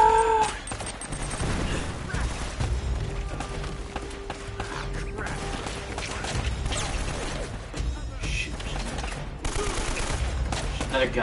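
Repeated gunshots and bursts of fire in the Uncharted video game, crackling throughout at steady intensity with occasional heavier hits, mixed with game sounds and some talk.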